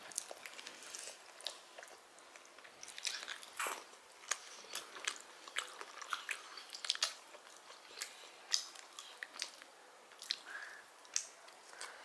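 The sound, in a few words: child eating food, chewing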